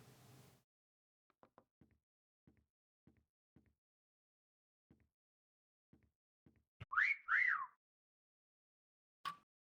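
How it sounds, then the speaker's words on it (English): A whistle in the Meccha Chameleon video game gives two quick rising-falling tweets close by. Faint scattered footstep-like taps come before it, and one short high blip follows. "I heard a whistle. It sounded close."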